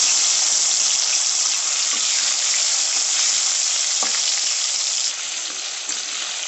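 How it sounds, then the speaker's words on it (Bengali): Chopped tomato fries in hot oil with whole cumin, bay leaf and dried red chili, making a loud, bright, continuous sizzle close up that eases slightly toward the end, with no talking. "টমেটোটা হালকা একটু ফ্রাই হয়ে এসেছে"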